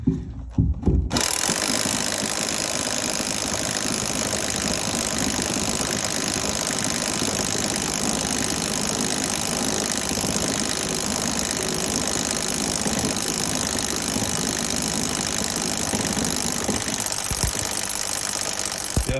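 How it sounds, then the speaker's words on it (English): A heavy, continuous rotary hammer drill, a 40-year-old Hilti, grinds and rattles steadily for the whole stretch while drilling a hole, loud and close, with no talking. "This is a 40-year-old Hilti drill, so I'm super happy with the way it's performing."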